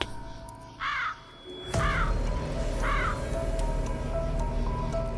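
Crows caw three times, each a harsh rising-falling call, at moderate distance over a steady outdoor background hum near a cornfield scarecrow.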